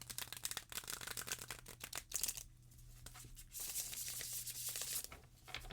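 A flexible Beauty of Horror tarot deck is shuffled up close. Quick papery riffles and snapping card flicks come in bursts, broken by soft sliding pauses, all quiet and with no talking.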